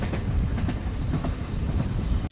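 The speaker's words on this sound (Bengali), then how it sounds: "ট্রেন চলতে লাগলো।" A train runs steadily along rails in a rural Bengal setting, giving a continuous loud rumble with faint rhythmic clatter from the wheels and no voices over it.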